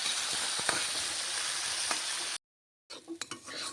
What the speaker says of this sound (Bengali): এবার এটাকে একটু নাড়াচাড়া করতে হবে